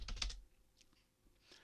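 Typing on a computer keyboard: a brief quiet cluster of key clicks at the start, then a few faint scattered taps.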